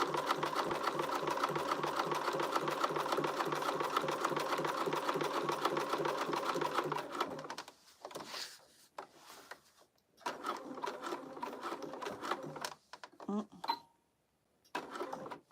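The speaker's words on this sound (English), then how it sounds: "we're just gonna sew it." A sewing machine stitching a crossbody bag runs in a steady, fast, close whir for several seconds, then stops and restarts in shorter bursts, with a voice talking during the pauses.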